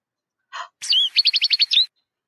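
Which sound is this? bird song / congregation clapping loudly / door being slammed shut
bird song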